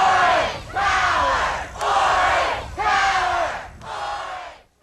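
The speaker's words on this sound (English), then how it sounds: "from the sounds of the crowd" A crowd at a 1983 pep rally roaring in rhythmic chanted bursts, five loud swells of shouting voices separated by short dips, close and energetic.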